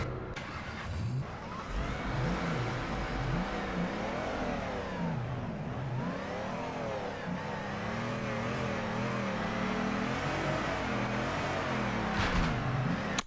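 Car engine in the Torque Drift racing game revving and driving, a mid-pitched engine note rising and falling in repeated sweeping revs over about thirteen seconds, steady and fairly close with no talk.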